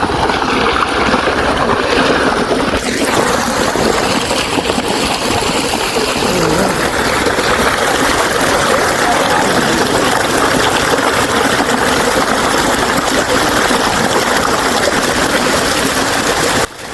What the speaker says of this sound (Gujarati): અહીંયા જો વાલ ખુલ્લો છે એટલે અહીંયા જ પાણી નીકળી જાય છે